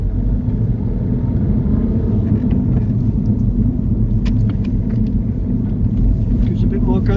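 Steady low engine rumble of a learner's car pulling away as it is given more gas during a driving lesson, a constant droning hum inside the cabin with faint road noise.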